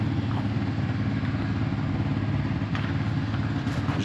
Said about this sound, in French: J'ai mis la moto en chauffe